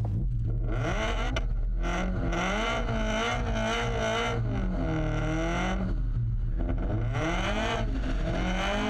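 A drift car's engine revs hard and continuously while it spins donuts, with rising and falling pitch sweeps and a loud, near roar across the whole stretch.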